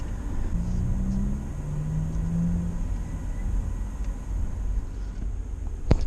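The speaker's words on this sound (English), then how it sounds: "having the car running, idling, air condition is running" Car engine idling steadily with the air conditioning running, heard from inside the cabin as a constant low rumble and fan hiss, a faint tonal drone drifting in the first half and a sharp click near the end.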